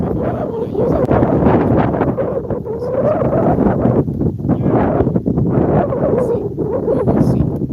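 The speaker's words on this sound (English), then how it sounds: "It's very windy." Strong outdoor wind buffets the microphone in loud, continuous gusts, swelling and easing throughout.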